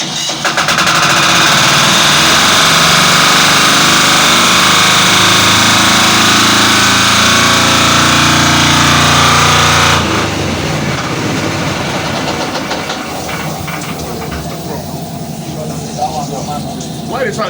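A diesel engine runs during a staff fire and safety drill at a Lagos bonded terminal, a loud, close, continuous rumble that shifts to a rougher tone partway, with people talking over it.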